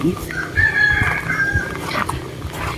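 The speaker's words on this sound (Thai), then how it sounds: "ก็เราก็จะมีเสียงไก่ ขันอะไรควบคู่กันไปด้วยนะคะ" A rooster on a Thai vegetable farm where chili peppers grow in sacks crows once at middle distance, a long wavering call over outdoor background noise and faint rustling.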